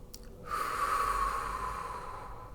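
A single long, breathy exhalation shown as a labor breathing technique, starting with a short sniff and then a steady, gentle blow of air that fades slowly, close and soft.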